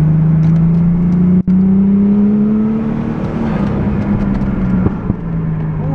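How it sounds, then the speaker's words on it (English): A Toyota Supra engine revs hard nearby, its pitch rising and holding with a strained drone. A sharp pop breaks through early, and scattered crackles follow later. "Ooh, look at her backfires."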